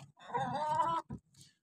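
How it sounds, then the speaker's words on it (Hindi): A hen gives a drawn-out, nasal cluck close by, followed by a short clucking note and a faint trailing call. "और ये जो मुर्गी बोल रही है"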